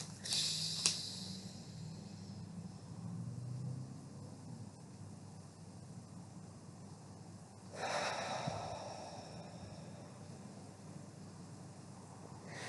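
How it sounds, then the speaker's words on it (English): Slow, deep breaths close up: a long drawn-in inhale, a quiet hold, then a long, airy exhale, with no talking. "We're going to take a deep breath in, and we're going to count to 4 while we're holding it in."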